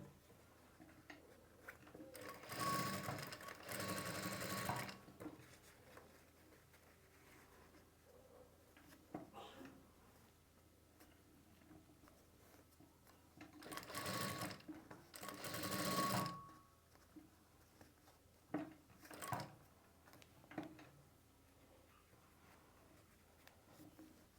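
A sewing machine stitches piping onto a blouse in two main bursts of steady whirring, followed by a few shorter runs, with quiet pauses between them and no talking.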